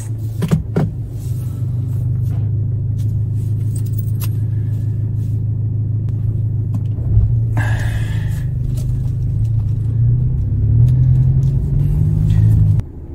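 A car idles and then pulls away from a parking spot, its low engine rumble steady and close for several seconds, with a brief mechanical whir midway and no voices.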